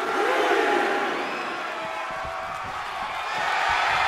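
A dense arena crowd roars and cheers during a wrestling match in the video game WWE 2K24, a loud continuous wash of voices that swells at the start and end.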